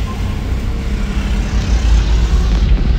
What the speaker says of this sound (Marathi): बघा ट्रॅफिक ही जवळपास 7-8 किलोमीटर अशीच ट्रॅफिक आहे